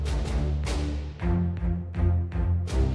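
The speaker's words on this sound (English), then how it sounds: "the strings, the snare, the sub kick." Low strings rhythmic motif layered with a snare and sub kick drum, dense and loud, with sharp cracking hits and deep thumps punctuating sustained bowed low notes in a driving cinematic pattern.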